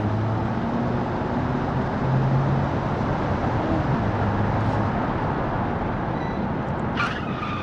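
A car in the Automation game revs hard and drives off from a standing start, producing a dense continuous engine roar and road rumble, heard alone and fairly loud throughout.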